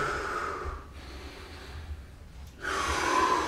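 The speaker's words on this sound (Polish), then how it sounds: "spokojnych wdechów" A person breathes slowly and deeply after a 15-minute fat-burning workout, with a long audible exhale, a quiet pause, then another strong breath, close and with no talking.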